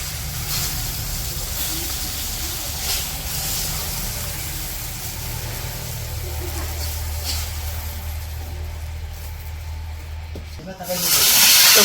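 Fish frying in a pan during home cooking of a Bengali fish curry, a continuous hiss and crackle of hot oil that holds steady for several seconds before a louder burst of clatter near the end.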